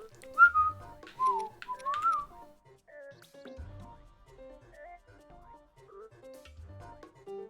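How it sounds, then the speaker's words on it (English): A person whistles a light, bouncy tune with clear, melodic phrases and pauses between them, faint and close, with soft low thumps underneath. "Just purse your lips and whistle, that's the thing."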